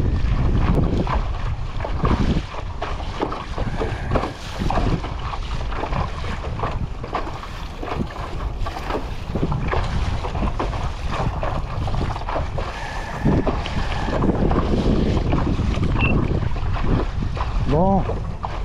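Steady wind rushes over open water while kayaking, with lapping waves and broadband gusts buffeting the microphone throughout.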